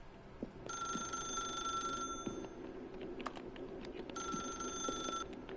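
A video-game telephone rings in two bursts of a bright electronic bell trill, each lasting over a second with a pause between, over a low, soft background ambience.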